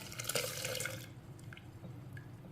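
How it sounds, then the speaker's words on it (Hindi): Milk trickles and splashes into a jug for a summer almond milkshake, a soft liquid pour that fades out after about a second, leaving faint drips in quiet surroundings. "जग में थोड़ा सा दूध डाल लेंगे। सारा नहीं डालना, थोड़ा सा डालना है।"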